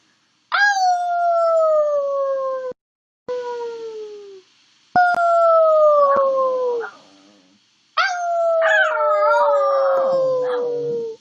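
Macy the dog howls on request in several long, wavering, sliding howls separated by brief pauses. The howls are close and loud and rise into a yipping, strained cry at the end.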